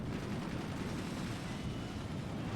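Cannons fire in the artillery strategy video game Forts as a dense, continuous barrage of rumbling blasts, loud and unbroken for the whole stretch, with no distinct gaps between shots.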